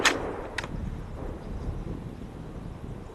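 A single sharp gunshot fired at a game animal during a hunt cracks right at the start, followed by a brief second report and then low outdoor wind rumble.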